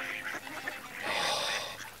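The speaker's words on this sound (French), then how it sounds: "Regarde ces merveilleux oiseaux, mon bâton. Ce sont des cailles" Quails calling in a dense, continuous chorus of bird cries, loud and close, with a noisier swell of overlapping calls through the middle.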